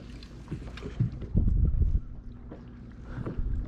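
Low, rumbling engine drone of a motorboat passing on a lake, swelling briefly louder mid-clip with some wind buffeting.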